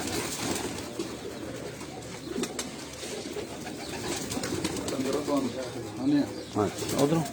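Breeder pigeons cooing on a rooftop loft, soft repeated coos mixed with people talking nearby, growing a little louder toward the end.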